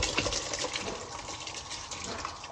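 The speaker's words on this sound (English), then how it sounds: "So friends, I add all the rice in the bowl." Rice is poured into a pot of boiling water on a stove, making a loud continuous splashing and gushing sound that lasts a few seconds.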